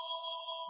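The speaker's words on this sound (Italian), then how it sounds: "Adesso c'è un telefono che suona" A single electronic telephone ring, a steady two-tone electronic trill heard close and clear, alone, cutting off at the end.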